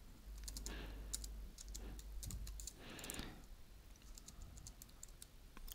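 Soft, scattered keystrokes tap on a computer keyboard while code is entered into a Concrete5 template file, faint and close with irregular clusters of clicks.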